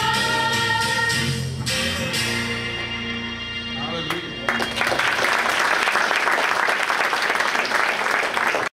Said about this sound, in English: Give another hand clap.